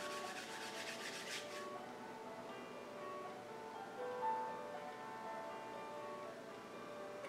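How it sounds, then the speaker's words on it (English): Hands rub together for warmth during a church yoga class, making a soft, steady, close brushing friction that lasts a second or two and then fades into quiet room tone. "bringing your hands together. Once more, rubbing them together for some friction"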